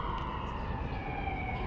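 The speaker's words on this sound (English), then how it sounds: "nobody moved for these ambulances anyway" An ambulance siren holds a steady, sustained electronic tone over a constant wash of traffic noise, moderately loud and fairly close, with no voices.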